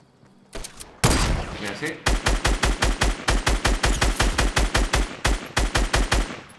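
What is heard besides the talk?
sniper rifle shots in Fortnite, from a video game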